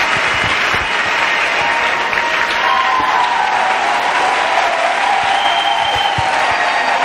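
A church congregation applauds steadily and loudly throughout, dense clapping filling the space with a faint murmur of voices underneath.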